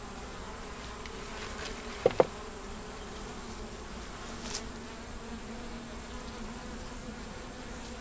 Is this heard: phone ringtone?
no